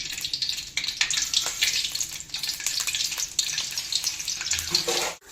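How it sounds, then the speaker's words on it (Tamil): Cinnamon and cloves sizzle and crackle in hot oil, a steady bright frying hiss with small pops throughout, close and moderately loud, ending with a brief clatter. "பட்டை கிராம்புலாம் எல்லாமே பொரிஞ்சிச்சு."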